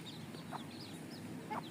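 Native village hens on a small farm of ten birds cluck in short, soft bursts, with faint high chirps over a steady background hum.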